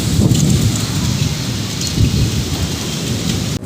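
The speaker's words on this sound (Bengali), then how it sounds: "দেখো বৃষ্টি আরম্ভ হয়েছে এখন মেঘের গর্জন" Thunder rolls in low booming swells over a dense, steady hiss of rain starting to pour, loud and close during a storm, with no talking.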